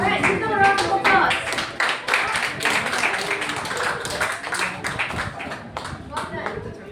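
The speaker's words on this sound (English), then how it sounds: "Alright, give them a round of applause." A group applauds a student team in a classroom, with sustained, close, dense clapping from many hands lasting several seconds and gradually thinning, with voices mixed in.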